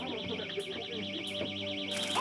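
In-store shop alarm ringing during a robbery, a warbling siren-like electronic tone that rises and falls quickly and steadily, with short bursts of noise and muffled background sounds underneath.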